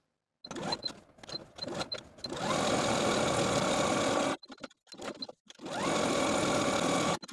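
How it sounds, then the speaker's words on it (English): A sewing machine runs in steady, whirring bursts, pausing briefly between runs of stitching, close and moderately loud. "take this strap to the sewing machine and top stitch along all 4 edges"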